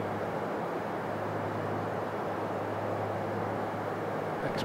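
Constant loud broadband rushing of exterior wind noise around an aircraft in the X-Plane flight simulator, steady and unbroken throughout with a low hum beneath it.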